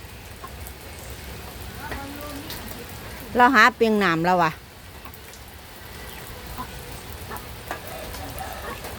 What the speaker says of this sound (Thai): ฝนตกบรรยากาศฝนตกพี่น้อง